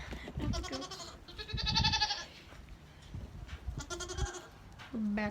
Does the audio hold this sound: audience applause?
no